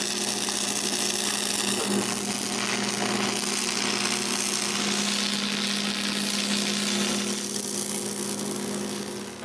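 Metal braces on a cottage gate are welded in place, a dense continuous crackling hiss with a low steady hum underneath that holds unbroken for the whole stretch.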